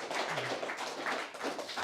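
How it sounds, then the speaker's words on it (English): An audience at a panel discussion on digital democracy applauds as a speaker is introduced, a dense, steady patter of many hands clapping at moderate volume, heard from the room without voices. "Give him a warm applause."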